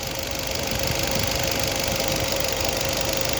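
A Hyundai Grand i10 Nios engine idles with its AC fan motor disconnected, giving a steady, continuous mid-range hum and vibration heard up close. A faint knocking texture runs through it without any change.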